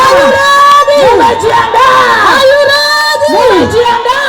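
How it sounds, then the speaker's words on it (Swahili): A church congregation shouts and cries out together in a loud, sustained roar of many voices with rising and falling whoops, close and continuous. "Somebody shout. Umepiga kelele."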